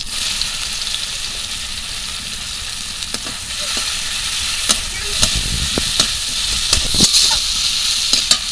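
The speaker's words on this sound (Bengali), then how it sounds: "অল্প একটু লবণ, যাতে পেঁয়াজটা তাড়াতাড়ি ভাজা হয়ে যাবে।" Chopped onion fries with panch phoron in oil in a kadai, making a close, constant sizzle broken by sharp clicks and scrapes of stirring that grow more frequent toward the end.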